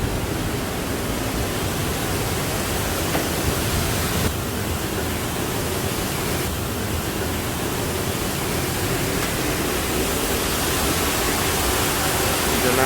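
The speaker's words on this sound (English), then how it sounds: "It's a nice waterfall." A waterfall at a rooftop swimming pool in Bangkok's Sukhumvit 23 area pours with a dense, steady rushing hiss, loud and close, unbroken throughout with no voices over it.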